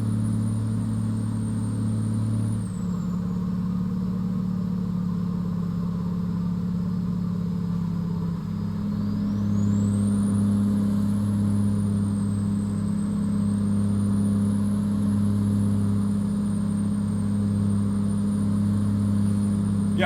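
Truck engine in a truck-driving video game, a steady mid-pitched drone with a low hum that holds for twenty seconds, alone, with a faint whine rising and falling above it.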